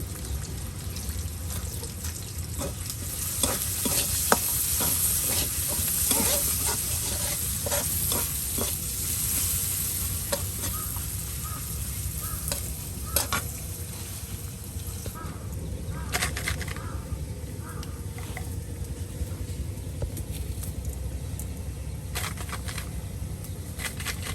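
Chopped ash gourd stir-frying in a pan over a steady background hiss, with repeated scraping stirs and a few sharper clinks from a utensil.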